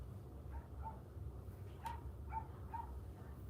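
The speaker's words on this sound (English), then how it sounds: "Why is he barking?" A dog named Hershey gives a handful of short, faint barks and yips from somewhere off to the side, spaced irregularly over a low background hum.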